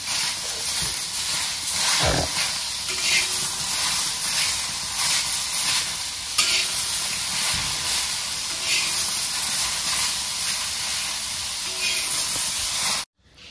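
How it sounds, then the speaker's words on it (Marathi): Tomatoes and green chilies roast in a hot pan for a chili-tomato thecha, giving a loud, steady sizzling hiss that runs unbroken with a few soft pops and cuts off abruptly at the end. "तर बघा आता ही मिरची आणि टमाटर मी चांगलं भाजून घेतलेलं आहे।"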